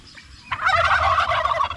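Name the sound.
male turkeys gobbling while squabbling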